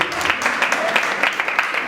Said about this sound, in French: Je veux vous demander d'applaudir encore très fort pour ce jour aujourd'hui